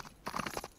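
A horse in a video game clip-clops in a quick run of close hoofbeats, about five or six in a rapid burst, with game sounds around it.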